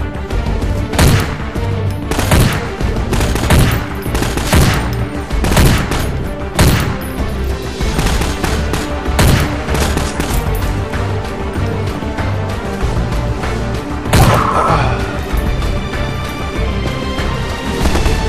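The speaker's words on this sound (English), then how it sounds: "Taking fire! Need assistance!" Rapid gunfire in a Garry's Mod firefight: dense bursts of automatic shots with sharp single cracks, steady and loud through the whole stretch, and no voices.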